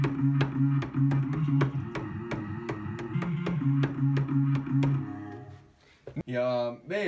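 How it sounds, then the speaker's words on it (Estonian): A vocal chop made from a producer's own voice, pitch-shifted down an octave into a deep, droning tone, plays over a steady clicking beat in a body-sounds production track. A short, higher vocal fragment and a brief gap come near the end. "See on pitch shiftitud alla oktavi ja nüüd see kõlab selliselt."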